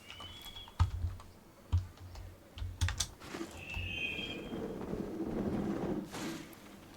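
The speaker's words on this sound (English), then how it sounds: "I'm playing it on the keyboard." Computer keyboard keys clatter in scattered clusters during PC gameplay, soft and close, with a low rumble and faint game sounds building toward the end.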